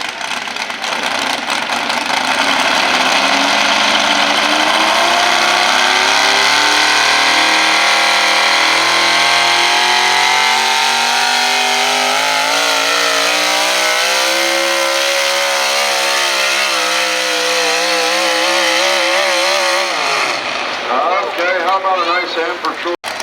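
Pulling truck at a fairground tractor and truck pull, its engine roaring at high revs with rising pitch as it pulls for many seconds, then dropping off sharply near the end, loud and close, with an announcer talking over it.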